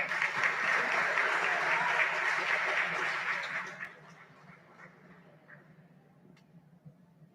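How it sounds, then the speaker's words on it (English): Audience applause at a school Model UN ceremony, steady dense clapping for about four seconds that then tapers off to scattered faint claps. "please have a huge round of applause for them."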